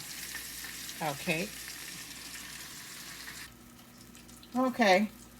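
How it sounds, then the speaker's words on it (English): Catfish nuggets sizzle faintly and steadily in a skillet, with a couple of brief voiced sounds rising over the hiss. "It's like a few catfish nuggets, and the rest is in the skillet."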